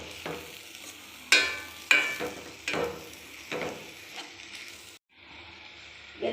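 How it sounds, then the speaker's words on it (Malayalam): Squid and ground masala being stirred in a pan for Kerala squid thoran, with sharp scraping strokes of a spoon at irregular intervals over a steady close sizzle that briefly drops to near quiet before resuming. "നല്ലപോലെ അരപ്പും കണവയും കൂടെ ഒന്നുപോലെ ചേർന്ന് മിക്സ് ചെയ്ത് നല്ലപോലെ ഒന്ന് ഇളക്കി യോജിപ്പിച്ച് കൊടുക്കുക"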